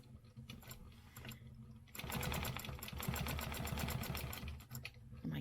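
A sewing machine stitches with a rapid, steady mechanical rattle in two bursts, the second longer and louder, over a faint background.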